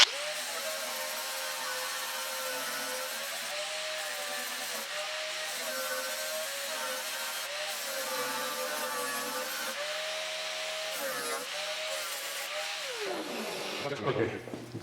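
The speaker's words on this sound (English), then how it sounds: "now we're gonna grind top and bottom, and then we're gonna draw a straight line and we're gonna grind to that" An angle grinder works steel on the passenger door of a 1972 Triumph GT6 under restoration, a steady high whine with slight pitch dips as it bites, then winding down at the end.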